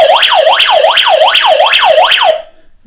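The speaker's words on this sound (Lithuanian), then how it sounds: "čia yra toksai SOS mygtukas ir aš jeigu jį paspaudžiu šiek tiek ilgiau palaikau" An emergency radio receiver sounds its SOS alarm siren, a loud rising-and-falling electronic wail repeating about every 0.4 seconds, then cutting off abruptly.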